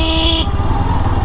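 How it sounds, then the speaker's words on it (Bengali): Loud, close road traffic jam with cars and motorbikes, a steady dense engine drone with a sustained horn tone at the start that cuts off partway. "জ্যাম আর গাড়ি বাইক"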